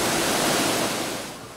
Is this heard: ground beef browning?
no